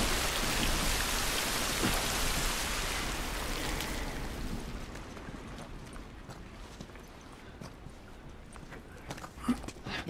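Rain in The Last of Us video game, a dense steady downpour hiss that fades after a few seconds into quieter scattered drips and light taps, with no talk.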